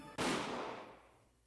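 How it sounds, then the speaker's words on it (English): A single gunshot sound effect from the Higurashi visual novel cracks out sharply after a brief faint lead-in, then decays in a long reverberant tail that fades over about a second. "That was when I heard a gunshot."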